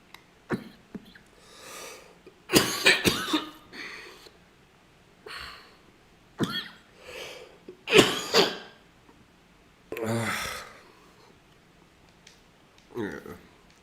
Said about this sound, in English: the cough is significantly worse today than